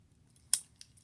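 Victorinox MiniChamp pocket knife's small scissors give one crisp snip, followed by a fainter second click, close up in a quiet room.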